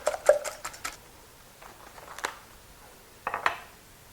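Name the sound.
beating eggs with a wire whisk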